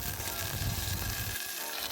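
Bay leaf, cinnamon, cloves and fennel seeds sizzle in hot oil in a pressure cooker, a dense, steady close-up crackle and hiss that thins slightly toward the end, with no talking.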